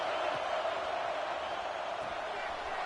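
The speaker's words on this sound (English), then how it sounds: "This crowd is trying to inspire this defense to make a big red zone stop." At an LSU vs Clemson college football game, the stadium crowd keeps up a dense, steady roar as the home defense tries to make a red zone stop, loud and unbroken throughout.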